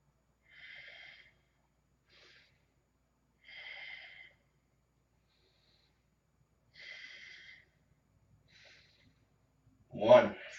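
Slow, audible breaths during a yoga flow pose, soft airy exhalations spaced a few seconds apart in near silence, ending with a brief louder burst.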